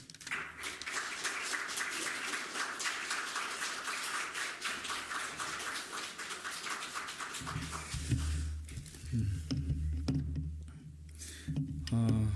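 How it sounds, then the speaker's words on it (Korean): A church congregation claps steadily for several seconds welcoming a pastor, the dense applause fading out before low hum and a voice begin. "우리 박수로 환영하며 모시도록 하겠습니다"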